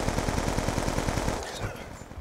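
Rapid automatic gunfire in Call of Duty: Black Ops 2, a steady stream of loud shots for over a second, then stopping and leaving quieter game noise behind.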